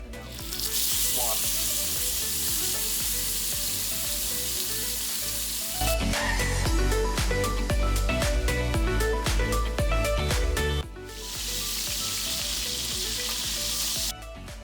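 Food sizzles loudly in a hot frying pan while cooking beef short ribs, a dense continuous crackle that swells louder midway, then settles back to a steady sizzle.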